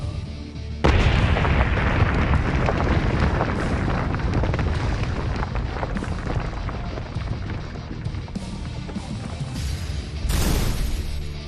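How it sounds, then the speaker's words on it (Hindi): A heavy tunnel-excavation blast in the Himalayas booms out and rolls into a long, deep rumble with crackling debris, followed by a second surge of blast noise near the end. "पहला धमाका"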